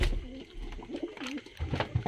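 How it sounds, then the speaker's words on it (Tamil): Two pigeons in a breeding box give soft, rolling coos, several low warbling calls in close succession, near and moderately quiet with light background noise. "இந்த ரெண்டு புறா"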